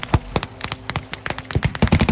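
Rapid gunfire and heavy booms from a battle reenactment with troops and a large cannon, sharp repeated shots in quick bursts with louder thuds near the end, close and loud with no talk.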